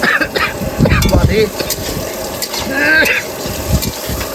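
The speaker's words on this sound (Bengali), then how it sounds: "তো রান্না কিন্তু বন্ধুরা শুরু হয়ে গেছে এখানে" Fish curry with green chilli, onion, ginger and garlic being cooked on a boat on a Sundarbans river, with sizzling frying and stirring clatter of a pan up close and brief voices in between.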